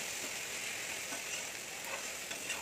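Chopped onions fry in a pan, browning for palak paneer, giving a steady close sizzle that holds evenly throughout with a few faint stirring scrapes and no talking.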